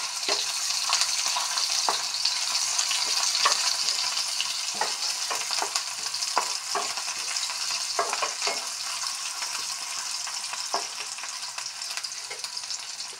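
Onions hit hot oil in a wok and fry lightly with a steady sizzle and scattered crackles and pops throughout, close and continuous, with no talking.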